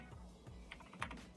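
Light, quiet typing on a computer keyboard, a short run of irregular soft key taps close to the microphone with no talking.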